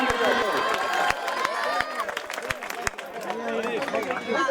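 Audience applause at a prize distribution ceremony for a cricket tournament: a crowd claps steadily with sharp individual claps and some cheering, while a voice speaks over a PA.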